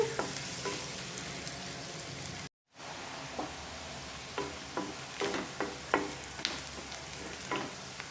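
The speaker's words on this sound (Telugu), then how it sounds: "ఉల్లిపాయ చక్కగా నూనెలో వేగిపోవాలండి లైట్ గోల్డెన్ కలర్ వచ్చేదాకా ఫ్రై చేసుకోవాలి" Sliced onions fry in hot oil for an eggplant curry, giving a steady close sizzle with scattered crackles and stirring clicks. The sound drops out briefly, then continues alone with no voices.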